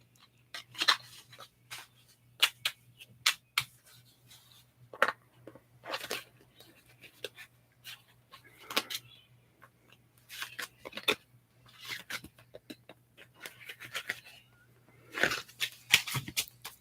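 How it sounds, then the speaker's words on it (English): Tarot cards are shuffled up close in a quiet room, producing irregular crisp bursts of riffling and slapping separated by short pauses. "I'm almost done shuffling your cards."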